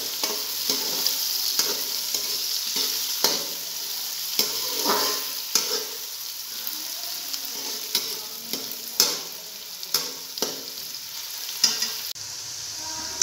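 Onions frying in ghee until brown, a steady close sizzle with frequent stirring scrapes and clinks from a spoon in the pan, no one speaking.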